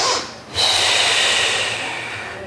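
A single audible exhale during a pilates hips and thighs exercise, a breathy rush of air that starts after a brief dip and trails off slowly, close and alone without talk.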